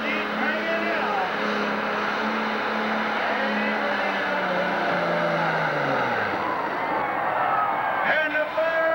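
An International 3688 pulling tractor with a big fuel pump roars at full power during a 1997 tractor pull in Sandwich, Illinois, a loud, sustained engine drone whose pitch sags lower and then recovers near the end, with speech over it.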